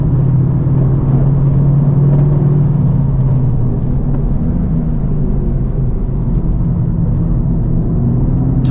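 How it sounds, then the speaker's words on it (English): 2023 Honda Civic Type R at speed on the Gingerman Raceway track, a loud continuous roar of tire noise mixed with engine drone heard from inside the car, steady with no talk. "Tires are so loud I can't hear the engine."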